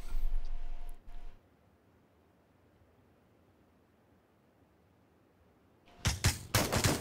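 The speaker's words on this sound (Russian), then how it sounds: "Оник должен сейчас открывать стрельбу." Gunfire in a battle royale video game esports match, a burst of shots at the start, then near silence, then a rapid cluster of loud cracks near the end.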